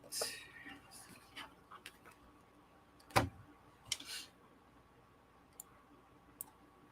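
A single sharp mouse click stands out near the middle, with a few fainter clicks and soft rustling around it against a quiet background.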